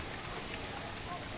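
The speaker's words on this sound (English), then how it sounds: "It's 12 at night and see how it started raining." Rain falls steadily at midnight during a Janmashtami festival night, a constant, even hiss of drops on surfaces with no clear pauses, heard close and fairly quiet.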